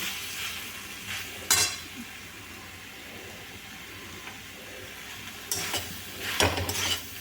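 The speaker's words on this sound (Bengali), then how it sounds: "খেজুর দিয়ে এগুলো ভালো করে আবার নেড়ে নিচ্ছি" A spoon stirs tomato chutney with chopped dates in a pan, a soft continuous scraping and sizzle with a few louder clanks against the pan, heard alone without talk.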